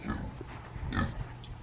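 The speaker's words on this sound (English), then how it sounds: "Let's go get these pigs." Pigs in their outdoor pen give a few short, close grunts in quick succession over a moment of low background noise.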